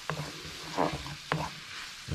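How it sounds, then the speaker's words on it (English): Flour sauce for Salisbury steak fries in a pan, with close spatula strokes scraping the bottom about three times over a continuous crackling sizzle. "Every time we give it a good stir."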